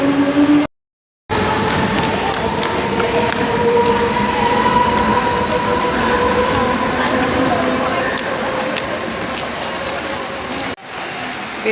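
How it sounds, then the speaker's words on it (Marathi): A suburban train rolls into a railway station platform, a loud, sustained rumble of wheels on rails with a faint squeal, briefly cut out early on and easing near the end. Voices talk over it. "42ची ठाणा ट्रेन लागेल आता."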